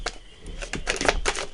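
Tarot cards drawn from a deck on a table during a reading: a short run of soft, crisp card flicks and slides, fairly close, with no talking.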